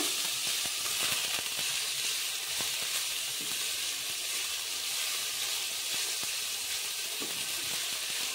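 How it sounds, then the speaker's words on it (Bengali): Capsicum frying in a pan while kadai chicken is being cooked, giving a steady, close sizzle and hiss with scattered small crackles throughout and no voices. "ক্যাপসিকামটাও কিছুক্ষণ ভেজে নেব।"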